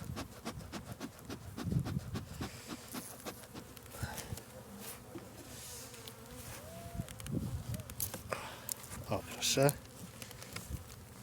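Honeybees buzzing during a spring hive inspection, a steady insect drone near the hive with soft knocks and handling noises mixed in, plus one sharper burst near the end.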